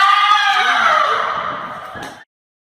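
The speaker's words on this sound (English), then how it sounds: "she lets out one of the most bone-chilling screams we have ever heard" A woman in a horror scene lets out one long, loud, shrill scream that slowly fades, then cuts off abruptly.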